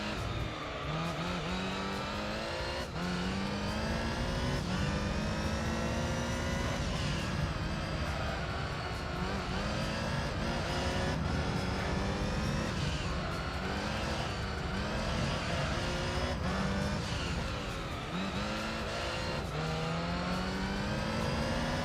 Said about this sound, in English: Right now we are struggling to control a 900 horsepower Supra in the JGTC here